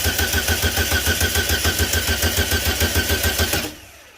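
A Formula Vee engine with an oil pressure problem cranks on its starter in a fast, even chugging rhythm for about three and a half seconds, loud and close, then cuts off without catching.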